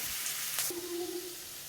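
Tomatoes and onions with salt fry in hot oil, a soft steady sizzle with a brief stir or clink partway through, close and alone without voices.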